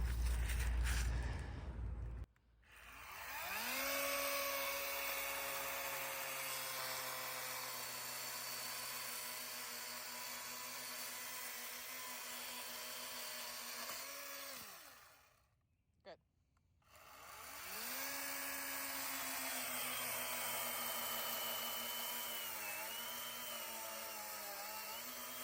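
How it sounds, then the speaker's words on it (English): A battery-powered chainsaw whines and drones continuously at close range while pruning elderberry shrubs, stopping briefly near the end before starting up again. "This is our battery operated chainsaw that I got Scott for Christmas one year"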